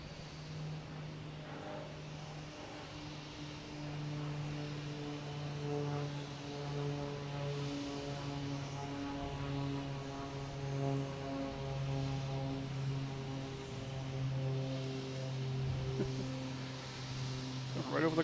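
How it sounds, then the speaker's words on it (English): A Cape Air Cessna 402 twin propeller plane climbs away at Boston Logan Airport, a steady droning engine hum with layered harmonic tones, moderately distant, with faint outdoor background throughout. "next taking off is a Cape Air Cessna 402 heading to Augusta"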